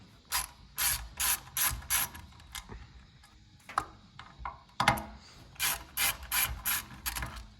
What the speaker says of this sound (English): pull these 4 power screws out